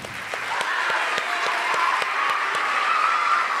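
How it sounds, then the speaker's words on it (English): An audience at a junior high school awards ceremony gives a quick round of applause for scholarship winners, even, continuous clapping at a moderate, sustained level throughout. "we're going to do a quick round of applause"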